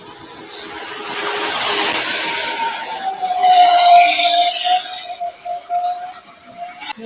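A car engine approaches and passes close by, rising to a loud whooshing peak midway and then fading, with faint background noise at the edges.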